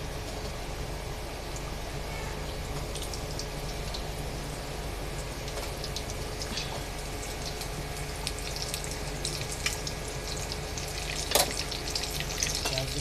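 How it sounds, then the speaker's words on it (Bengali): Coated salmon pieces deep frying in hot oil, a steady low bubbling sizzle running throughout with small crackles and a brief sharper pop near the end, fairly quiet and without voices. "কোট করে রাখা মাছগুলো এখন আমি ডুবো তেলে ভেজে নিব"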